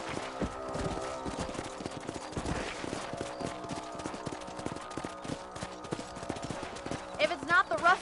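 Horses' hooves clip-clop at a steady walking pace in the Western video game Red Dead Redemption, under in-game talk and ambient sound, with a brief whinny near the end.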